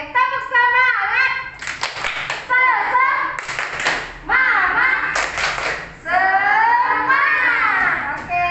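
A school class performs a tepuk semangat, clapping in sharp rhythmic bursts while voices chant along in unison, with pauses between the loud sections.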